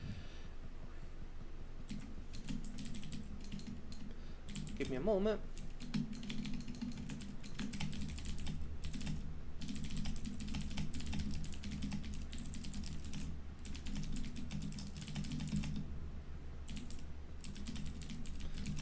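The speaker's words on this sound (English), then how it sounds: "I'm typing this out now." Typing on a computer keyboard in quick, uneven bursts of soft clicks, close but quiet, with a brief spoken phrase early on.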